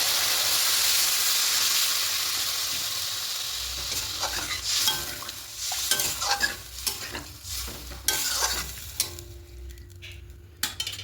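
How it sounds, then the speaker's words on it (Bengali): Loud, steady frying hiss of spice paste in a little oil, then water hits the pan and the sizzle drops into bubbling with irregular stirring clatter and spatters, for a cauliflower-potato egg omelette curry; no talking. "এবার এখানে মশলা পেস্টের জলটা দেবো, মিষ্টি জলটা দিয়ে আরও কিছুটা জল দেবো।"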